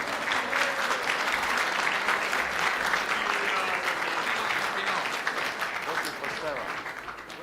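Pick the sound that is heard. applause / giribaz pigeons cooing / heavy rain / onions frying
applause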